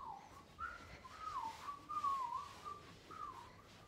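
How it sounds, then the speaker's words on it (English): A person whistles a wandering, tuneful melody in a backstage area at a theater production, clear and fairly close against a quiet room hum. "he's whistling a lot"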